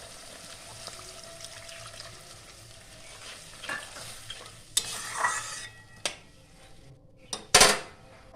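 Mustard-poppy paste stirred with a little water in a pan, a steady soft scraping and swishing with a few sharper clinks of utensil against the pan near the end.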